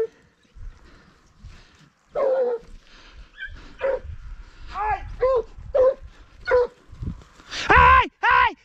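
Several hunting dogs bark and yelp in short, loud bursts during a rabbit hunt in Chile's VI Region. The barks come in irregular clusters, growing denser toward the end, with people shouting excitedly in between.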